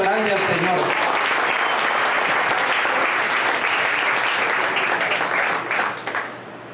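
A church congregation bursts into loud, sustained applause filling the whole stretch, with some voices mixed in at the start, fading slightly near the end.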